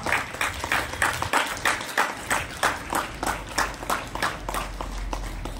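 School audience at an investiture ceremony clapping in a steady rhythmic unison beat, a crowd of hands close and fairly loud.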